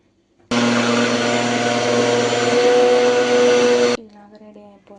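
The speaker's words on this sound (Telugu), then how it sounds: "ఇలాగా మిక్సీ మీద పెట్టేసుకున్నాక దీన్ని ప్రెస్ చేయాలి స్విచ్ ఆన్ చేశాక." A kitchen mixer grinder blends homemade ABCD juice, switching on abruptly into a loud, steady high-pitched whir for about three and a half seconds, then cutting off into a quiet clatter.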